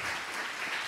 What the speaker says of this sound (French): Et on va vraiment t'applaudir pour ce que le courage.